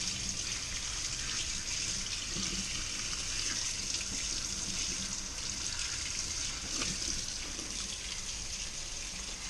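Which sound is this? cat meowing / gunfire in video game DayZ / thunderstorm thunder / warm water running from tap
warm water running from tap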